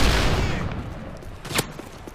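Gunfire burst in Modern Warfare 3 during a Resistance survival match, a loud, dense volley up front that thins out, with one sharper shot standing out near the end.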